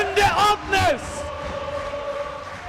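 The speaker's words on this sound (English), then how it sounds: "Norwegian crowd comes alive." Norwegian fans cheer at a men's lacrosse match between Norway and Scotland, a few loud whooping bursts rising and falling over a second, then fading into lower crowd murmur.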